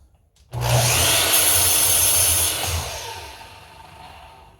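Power saw slicing a thin sliver off a wooden frame piece: a loud, sudden broadband whine that holds for about two seconds, then fades as the blade winds down.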